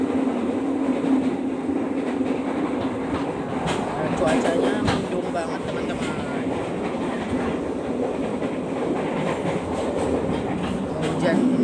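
Walahar local commuter train between Cikarang and Purwakarta running at high speed, a steady loud rumble of wheels on rail with faint clickety-clack throughout, heard from onboard.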